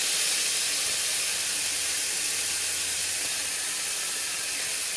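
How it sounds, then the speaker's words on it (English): Tortillas dipped in birria sauce laid into a hot pan outdoors give a loud, steady, broadband sizzle that hisses continuously for about five seconds. "I'm taking my tortillas and I'm dipping them into my beautiful birria sauce. I'll get them in. As you can see, my pan is hot."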